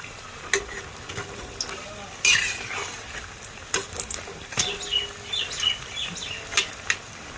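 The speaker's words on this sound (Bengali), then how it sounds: "ভালোভাবে লাল লাল করে কড়া করে ভেজে নেব।" Pumpkin beguni fritters fry in hot oil, giving soft, scattered crackles and pops over a faint steady hiss, with some sharper bursts now and then.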